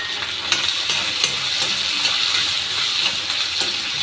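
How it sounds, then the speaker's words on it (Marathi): Peas and onion fry in a pan with a steady, close sizzle and occasional faint clinks, with no voices over it. "आता कांद्यासोबत मी मटार घालते म्हणजे ते व्यवस्थित फ्राय होतील"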